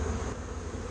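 Steady close hum of a wild honeybee swarm, a brief unbroken buzz with no talking.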